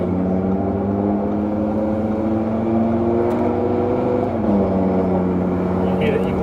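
An Audi RS3 exhaust in its loud mode rumbles in a low, steady burble while the car putters along at light throttle. The tone stays even throughout, with a slight shift in pitch partway through.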